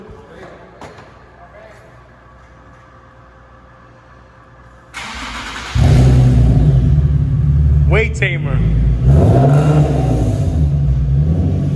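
A Nissan 370Z Nismo engine cranks and catches, then idles with a deep rumbling cat-back exhaust and a couple of quick revs, loud and close, with brief talk before.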